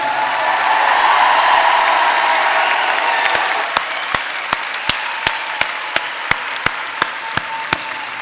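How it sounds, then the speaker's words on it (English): A commencement crowd at Lapeer West High School's class of 2014 ceremony applauds loudly. The dense clapping fades after a few seconds, leaving a steady series of single sharp claps over the low murmur of the hall. "let's get one big round of applause."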